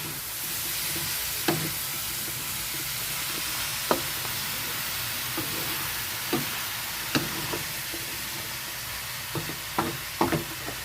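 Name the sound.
stirring jackfruit cooking in coconut milk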